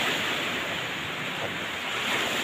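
Sea waves roll in at a river mouth as the tide rises, a steady loud wash of surf mixed with wind rumble on the microphone, no voices.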